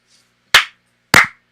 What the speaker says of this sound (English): I would have held that clap.